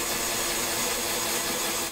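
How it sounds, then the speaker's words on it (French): A drill with a wood bit boring into beech, a steady, dense grinding and rasping whine that holds constant throughout, close and fairly loud. "Vous avez entendu le bruit de la perceuse."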